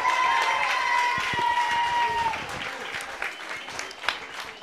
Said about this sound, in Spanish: un fuerte aplauso para Josefina Greña del CAE